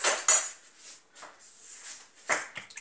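A fork scrapes and clinks against a dish while stirring mayonnaise, with several short, close taps and scrapes in uneven bursts and quiet gaps between them.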